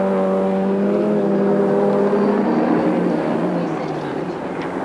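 A 1991 Rally Australia rally car races over jumps on a forest stage, its engine droning loud and steady with falling harmonic tones, while a commentator talks over it throughout.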